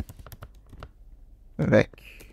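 A computer keyboard is typed on while C++ code is written, giving quick, light key clicks in short bursts, with a voice speaking over part of it.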